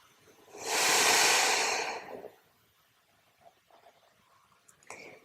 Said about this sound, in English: Nice big breaths into your belly.